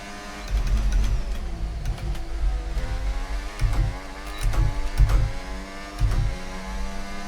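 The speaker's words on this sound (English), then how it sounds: "Maybe too many downshifts there." A Formula 1 race car in the F1 24 video game, racing at Baku in Azerbaijan, drives a lap: a loud, high engine whine climbs and falls through repeated rapid gear changes with punchy low-end bursts, with no voices.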